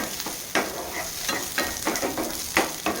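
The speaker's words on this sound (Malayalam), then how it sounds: "വേപ്പില ഇട്ട് കൊടുക്കാം വെളുത്തുള്ളി ഇട്ട് കൊടുക്കാം" Garlic and curry leaves sauté in a hot pan, a steady sizzle broken by repeated scraping stirs at irregular intervals, close and clear with no talking.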